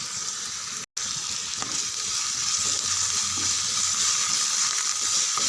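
Chopped onion, mustard seeds and curry leaves fry in hot oil for samba ravai kuzhipaniyaram, a loud hissing sizzle broken by one brief dropout, then continuing steadily.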